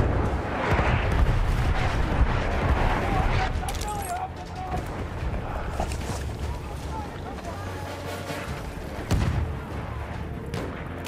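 Artillery strikes in Battlefield 1 on the St Quentin Scar frontlines land as heavy, rumbling booms over a dense battlefield din, with a strong blast near the end.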